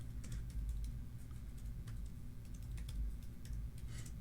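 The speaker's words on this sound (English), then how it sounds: "I typed everything wrong here" Soft, quick keystrokes come in irregular bursts on a computer keyboard, faint and close, over a low steady hum.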